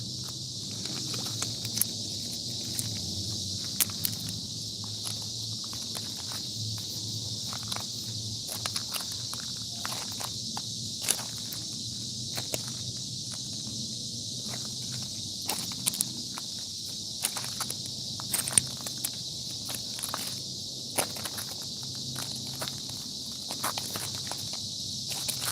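Cicadas buzz in a steady high drone from riverside bushes beside the Yellowstone River, with irregular crunching footsteps and small clicks on gravel close by.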